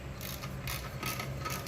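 A ratchet wrench clicks quietly as it backs out the last bolt on the valve cover of a John Deere D tractor, a few soft rapid bursts of clicking, close and faint.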